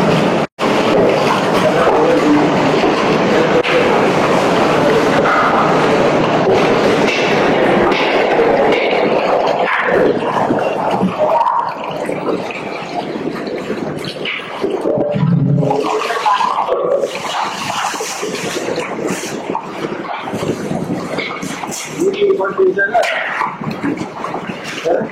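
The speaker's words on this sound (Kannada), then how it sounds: "ಅದ್ರಲ್ಲೇ ಈಗ ನೀರು ಹಾಕೊಂತ ಇದಾರೆ." Water poured in a steady, continuous rush into a large vessel of milk curdled with vinegar, about forty liters, while making wedding-style rasmalai in bulk; someone talks over the pouring throughout.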